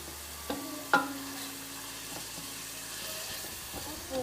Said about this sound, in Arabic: اللحم يتقلى